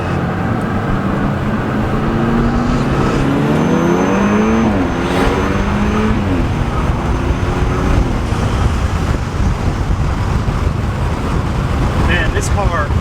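A 2013 BMW F30 328i fitted with an upgraded intercooler and charge pipe accelerates from inside the cabin, engine note rising and falling through gear changes under constant road roar.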